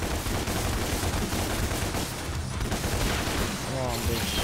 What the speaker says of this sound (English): High caliber handguns capable of maintaining high rates of fire against a single target.